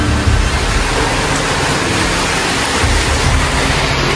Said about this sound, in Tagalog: Rinig na po ang ulan sa ganitong oras.